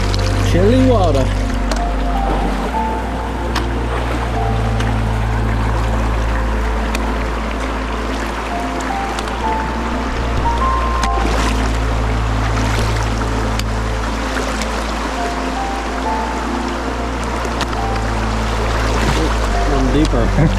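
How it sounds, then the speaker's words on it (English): A barefoot hiker wades through a chilly stream crossing on a forest trail, with steady rushing water and low sloshing close by as a voice talks. "It's another boots off water crossing."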